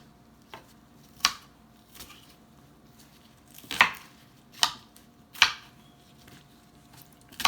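Small onions chopped in a mixer grinder while preparing chicken soup: a handful of sharp, separate knocks and whirring bursts spaced irregularly over several seconds against a quiet background.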